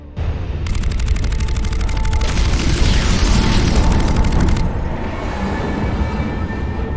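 Fleet weapons fire and explosions in Mass Effect Legendary Edition while retaking Omega: a loud, sustained roaring barrage with rapid pulsing shots layered over a deep rumble that eases slightly near the end.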